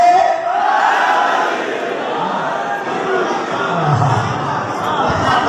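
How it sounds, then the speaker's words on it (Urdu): A crowd at a Ghadeer celebration gathering chants slogans together, a loud, sustained mass of voices filling the room throughout. "مل کے نعرے لگاؤ، نعرے"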